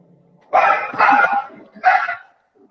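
A small dog barks three times in short, loud bursts, the first two close together and the third after a brief pause, heard indoors with no talking.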